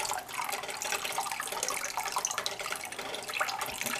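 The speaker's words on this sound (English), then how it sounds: "And now we're going to add 3/4 cup of vinegar." Vinegar, three-quarters of a cup, is poured into a gallon of raw milk just heated to 120 for homemade cottage cheese, giving a steady, continuous liquid splash and trickle close by, with no talking.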